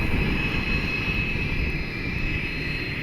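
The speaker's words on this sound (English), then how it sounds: "We got a business jet. Looks like a citation." A Cessna Citation business jet's engines roar loudly and steadily from close by at the airport, a continuous whine over a broad rushing noise with no voices.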